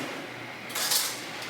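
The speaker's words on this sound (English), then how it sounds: "And then we're going to grab a spoon and we're gonna mix that." A spoon stirring dry banana bread ingredients, flour with a half teaspoon of salt, in a bowl, giving a soft scraping clink against the dish that swells briefly midway and then settles into quiet scratching.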